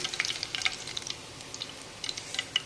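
Pieces of king fish fry in hot oil, giving a soft, steady crackling sizzle with scattered light pops, close and moderately quiet, with no voices.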